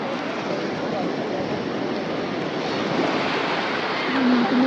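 Sea waves roll onto Mirabai Beach in North Goa as a continuous, fairly loud wash of surf mixed with wind noise, with a brief voice-like sound toward the end.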